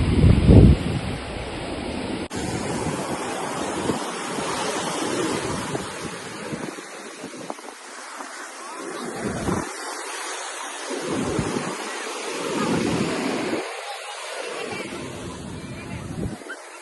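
Sea waves roll onto Chavakkad beach in a steady wash with repeated surging swells, roughened by wind buffeting the microphone, while people talk nearby.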